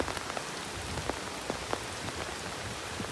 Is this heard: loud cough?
no